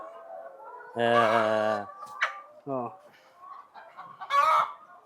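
Chickens on an egg-laying poultry farm, with loud nearby clucks and squawks coming in separate bursts, one long and others shorter, and quieter sounds in between.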